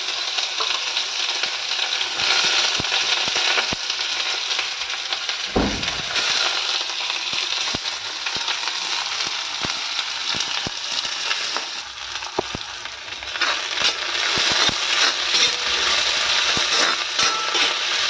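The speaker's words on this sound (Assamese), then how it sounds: "পিঁয়াজখিনি অকণমান টাইম ভাজি ল'ম ধুনীয়াকৈ" Onions and chillies fry in a pan with a steady, dense sizzle and crackle that runs close and loud throughout, with a few sharper pops and stirring scrapes.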